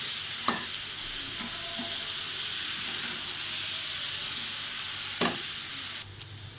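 Washed lentils fry in a pan with rice while being stirred, producing a constant loud sizzling hiss with a few sharp scraping clicks from the spoon, no voices.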